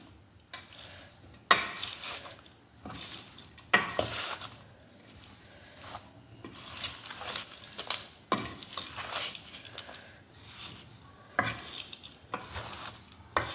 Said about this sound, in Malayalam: ഇനി നന്നായിട്ടൊന്ന് ഇളക്കുക, അടി തട്ടിയിട്ട് ഇളക്കി കൊടുക്കണം